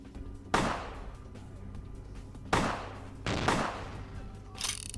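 Several sharp gunshots in Vampire the Masquerade: Bloodlines, fired one at a time with gaps of a second or two and short echoing tails, fairly loud with no talk over them.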